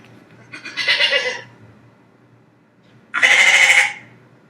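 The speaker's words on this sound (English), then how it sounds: "The sheep and the goat make the same sound." Two separate bleats from a sheep and a goat, each lasting under a second and heard close and clear, with quiet gaps around them.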